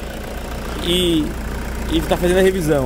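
Toyota Hilux 2.5 diesel engine idling after a valve cover gasket replacement, a steady low mechanical hum running underneath someone talking close by.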